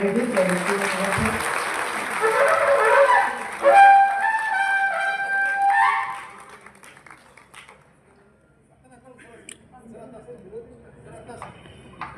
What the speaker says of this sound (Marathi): जर एकदा जोरदार टाळ्या